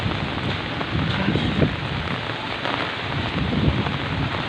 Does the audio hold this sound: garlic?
no